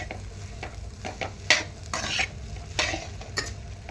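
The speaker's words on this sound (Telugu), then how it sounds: "ఇప్పుడు చక్కగా మొత్తం అన్నం అంతా కలిసేలా తిప్పుకోవాలి" Egg fried rice is stirred and tossed in a hot pan, with a steady sizzle under repeated scraping strokes of a spoon against the metal and a few louder clanks.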